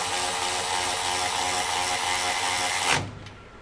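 A DeWalt 12V cordless ratchet runs nylock fasteners with a steady, close motor whir for about three seconds, then stops sharply and leaves a faint tail.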